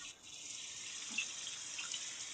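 Water pours steadily from a tap, a constant faint hiss with slight splashing that continues throughout.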